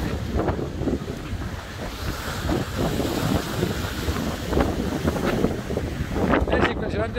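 A sailboat surfs big waves in the Strait of Le Maire, with continuous roaring rush of water and hull, heavy wind buffeting the microphone, and repeated surges as the swells pass, loud and close throughout.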